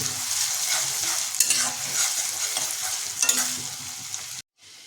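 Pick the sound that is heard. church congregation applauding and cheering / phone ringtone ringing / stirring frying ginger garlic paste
stirring frying ginger garlic paste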